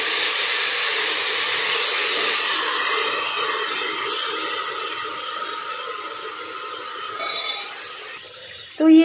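Loud, steady hissing rush as water hits a hot cooking pot of tempering for rajma khichdi, easing slightly over several seconds before a brief clatter at the end.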